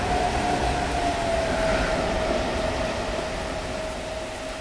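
A yellow measuring train rolls past in the Train Simulator Classic video game, making a steady, loud rumble with a faint tonal whine that fades slightly toward the end.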